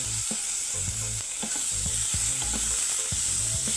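Vegetable noodles cooking in a pan, a loud continuous sizzle with frequent low stirring knocks and tosses in an uneven rhythm, close by and without talking.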